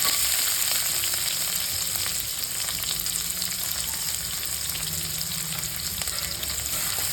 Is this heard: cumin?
yes